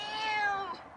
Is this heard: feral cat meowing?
yes